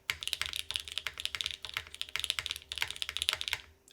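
Keys clatter rapidly on an EAU75 v2 plateless mechanical keyboard, with dense, crisp, close-up clacks and brief pauses in the typing and no voices.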